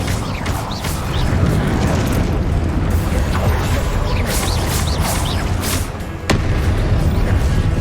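An Incendio fire spell cast in combat in Hogwarts Legacy, a loud whooshing, crackling burst amid continuous battle clamor, with whistling magic effects and a sharp impact near the end.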